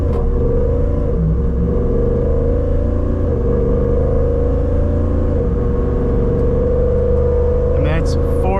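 Hemi-swapped Jeep with an 8-speed automatic in sport mode, a loud steady engine drone and road rumble from inside the cabin with a shift near the end, someone talking over it throughout.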